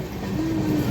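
A passenger train pulls out of Tanuku station on the Secunderabad to Srikakulam Road run, with a steady close rumble of moving railcars and a faint sustained tonal whine through the brief stretch.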